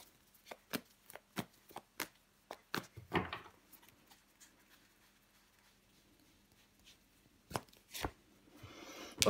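Tarot cards are handled on a table, with sharp taps and soft slaps as cards are laid down and covered, including a brief shuffle-like riffle, close and quiet with no voices.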